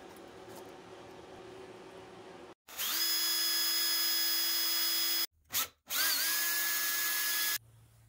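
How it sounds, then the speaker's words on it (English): A power drill bores out the rivets holding a shield on a bench grinder, working from the back. The loud, steady whine comes in two long bursts with a brief pause between, and the motor pitch dips as the bit catches. "so I'm going to drill them out from the back."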